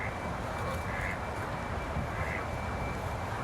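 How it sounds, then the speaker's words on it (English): Ducks at a pond give a few soft, scattered quacks at a distance, faint against steady outdoor background noise. "You hear them? That's the ducks."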